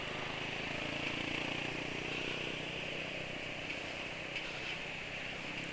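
A motorcycle engine running steadily just after being started, a continuous even drone at a constant level with no speech over it.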